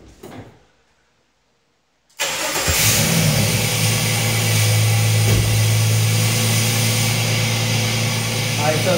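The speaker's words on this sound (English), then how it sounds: "right now I'm going to start the car up" A 2006 Jeep Liberty engine starts: a quiet lull, then the starter catches and the engine bursts into a loud, steady idle with a faint whine, close by and continuing unbroken.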